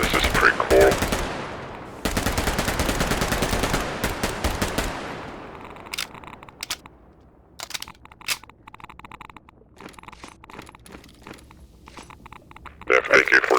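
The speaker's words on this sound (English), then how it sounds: "World War II era SMG, for whatever reason" A World War II era submachine gun from the Half-Life Resurgence addon for Garry's Mod fires close and loud in a rapid burst lasting a few seconds, followed by quieter scattered shots and clicks, then another loud burst at the end.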